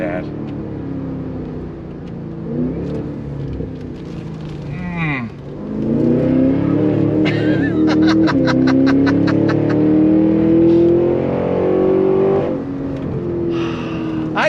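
A Cadillac Escalade-V SUV's engine revs and drives, a low steady roar that swells louder from about six seconds on, with rising pitch sweeps as it accelerates and a voice talking over parts of it.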